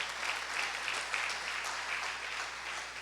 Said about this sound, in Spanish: Denle un fuerte aplauso al Señor si quiere aplaudirlo.